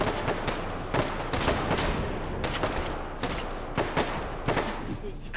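Shotgun blasts and other gunfire ring out in the VR shooter H3VR's Take & Hold mode, loud repeated shots at irregular intervals over dense game noise, with talking mixed in.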